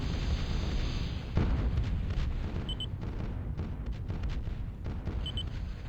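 Heavy Bertha artillery shelling in Supreme Commander: Forged Alliance, a loud, continuous roll of overlapping booming blasts with rumbling impacts and brief sharper cracks throughout.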